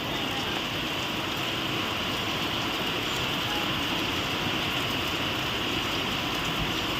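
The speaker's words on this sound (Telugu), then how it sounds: "వర్షం ఫుల్ వస్తుందండి" Heavy rain pours down on a country chicken farm with a shed, in a steady, dense roar of hiss and patter that never lets up, close and loud throughout.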